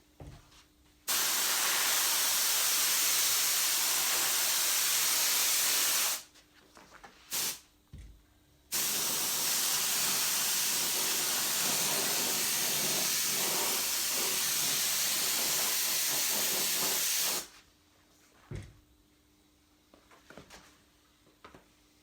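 Spray adhesive for a second coat on a leather door trim insert for a VT-VZ Holden is sprayed in two long, loud, steady hissing bursts, separated by short pauses and faint handling clicks.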